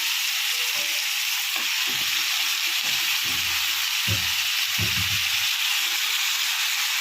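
Chicken curry pieces fry in a pan with a steady hiss, stirred and scraped in several low bursts near the middle of the clip, with no talking.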